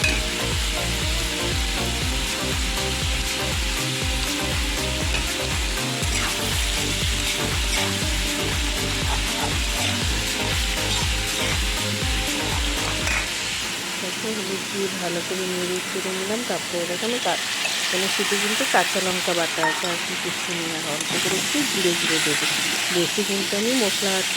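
Potatoes frying with turmeric in a home kitchen pan, a steady loud sizzle and hiss with scraping stirs, background music throughout the first half, and a voice talking in the later part.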